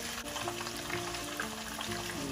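Ingredients for escabeche hit hot cooking oil in a wok, setting off a dense, continuous sizzle and crackle, close and steady with no talk.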